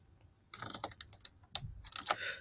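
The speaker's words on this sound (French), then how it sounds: "Je vais coller en tapant sur la touche CTRL V." Soft clicks and quick taps on a computer keyboard as shortcut keys are pressed, a short cluster of faint keystrokes after a brief silence, heard close with no talk.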